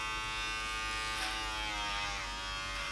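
Kmart electric hair clipper cutting a beard, a close steady buzzing drone that wavers and strains slightly as it works through the hair.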